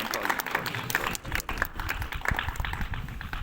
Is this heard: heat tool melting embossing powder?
no